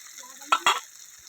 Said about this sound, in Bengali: মাছ ভাজার তেলে, প্রথম পেঁয়াজ দিলাম